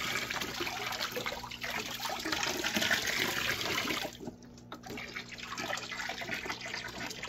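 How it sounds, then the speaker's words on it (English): Water runs from a kitchen sink tap into a jug in a steady, splashing stream that cuts off partway through, followed by quieter trickling and handling sounds. "I'm going to get some water from the sink here so we can speed up the process of heating up the pond."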